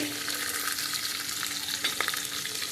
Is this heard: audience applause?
no